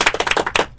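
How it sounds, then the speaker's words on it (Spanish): Studio audience applause on a television talk show, a dense, steady patter of many hands clapping close and loud for the whole moment, with no talk over it. "Aplausos."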